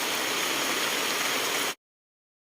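Rain falls steadily on purple delight plants outdoors, a dense even hiss for under two seconds before cutting off abruptly, with no talk.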